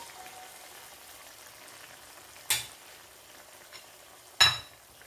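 Boiled chicken liver fries in a pan: a low, even sizzle runs throughout, broken by two distinct scraping thuds as the pieces are turned over.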